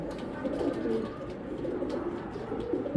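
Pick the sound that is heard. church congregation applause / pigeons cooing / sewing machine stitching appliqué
pigeons cooing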